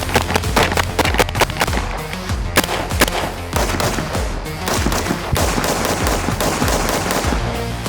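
Rapid bursts of gunfire from a Daniel Defense DDM4 V7 AR-15 rifle at a practical shooting range, loud sharp cracks in quick succession, rolling into dense continuous shooting without talk.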